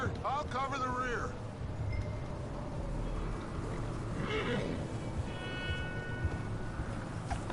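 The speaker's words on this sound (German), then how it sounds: "Kannst du schneller reiten, Micah?" In the video game Red Dead Redemption 2, a horse whinnies loudly near the start over a steady rumble of galloping hooves in wet weather, with voices talking throughout.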